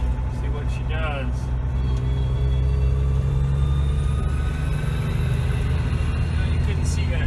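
Diesel truck engine pulling under load while rolling coal, a loud, steady low rumble and drone that holds throughout, close by, with a faint higher whine drifting above.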